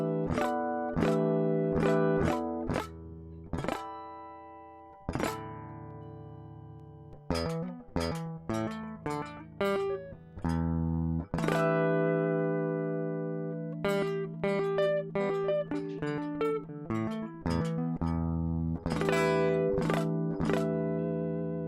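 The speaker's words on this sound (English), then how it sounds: "Pinch harmonics are the greatest." Electric guitar played through effects with distortion and chorus, picked notes and chords ringing out in bursts with sharp squealing pinch harmonics cutting through at intervals, loud and alone with no voices.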